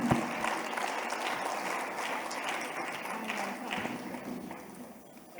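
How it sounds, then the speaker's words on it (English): Audience applause after a talk and conversation on the peasant question, a dense, steady wash of clapping from a full room that holds for several seconds and then thins near the end. "A big round of applause for Maryam, Surinder, and Mukulika Banerjee."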